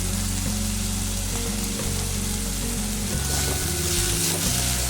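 Chickpeas fry in a pan spiced with coriander powder for a banana flower ghonto, a loud, dense, continuous sizzle with stirring over a low background hum, no voices.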